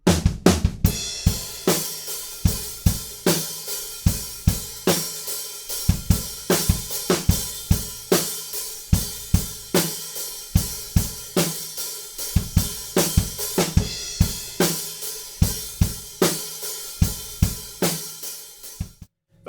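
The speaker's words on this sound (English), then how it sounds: "We have a little break, and then we have a fill, and we're going into the chorus." Full drum kit played close and loud, a rock groove with kick, snare and cymbals building into a busy drum fill that leads into a heavy chorus groove, continuing steadily to the end.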